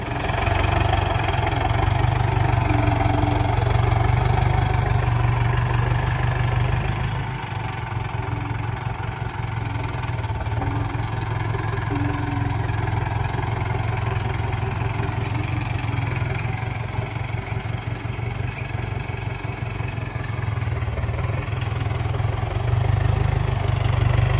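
A tractor engine idles outdoors on a sports ground being levelled for a volleyball tournament, a loud, steady low rumble that runs continuously throughout with only slight shifts in level.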